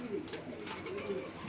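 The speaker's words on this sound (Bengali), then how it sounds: "এটা কি অধিকাংশই সব বাইরের কবুতর নাকি আপনার?" Pigeons in a Bangladeshi fancier's collection coo softly in low, rounded phrases, faint and a little distant over steady background noise.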